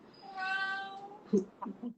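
A house cat gives a drawn-out, tonal meow followed by a couple of short, softer chirping mews, close by in a quiet indoor room.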